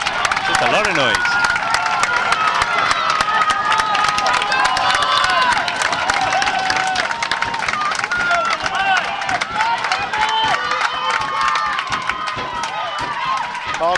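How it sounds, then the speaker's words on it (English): Crowd at a boys' varsity rugby division final cheers and claps loudly and continuously, with scattered shouts and whistles over a dense roar of applause. "the Belmont crowd now coming to life, looking to cheer their boys on."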